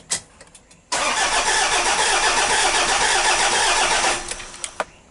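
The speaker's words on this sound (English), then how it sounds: "So let's start it up and see what's going on." A 2006 Toyota Hilux diesel truck with power loss and high diesel and oil consumption cranks briefly, then catches and runs in a loud, steady, close clatter before settling as a few clicks follow.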